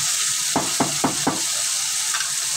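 Spoon stirring sweet pumpkin fry in a pan: four evenly spaced scraping strokes over a steady loud sizzle, then the sizzle continues alone.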